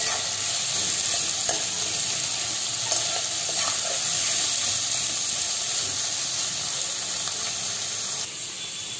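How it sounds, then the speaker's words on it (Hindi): Finely chopped onions sauté in a pan for sev tamatar sabji, giving a steady, even sizzle that carries on throughout, close and moderately loud. "दो प्याज बारीक कटे हुए डालकर सेकेंगे। प्याज हल्का मुलायम होने तक इसे सेक लेंगे।"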